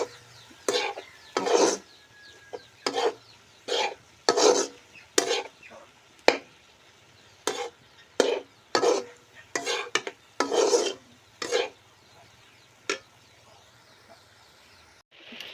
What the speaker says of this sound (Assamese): এইখিনি এতিয়া ভালদৰে লৰাই পেলাই